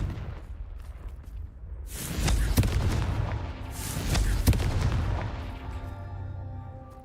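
Confringo fire spell cast in Hogwarts Legacy, loud booming blasts with sharp cracks, two main bursts a couple of seconds apart over a low rumbling background.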